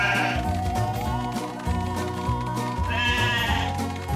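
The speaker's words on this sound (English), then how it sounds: "All right, you hungry sheep, follow me!" Sheep bleat repeatedly in the PAW Patrol Academy video game, wavering cries rising over a busy background of game music, clear and fairly loud throughout.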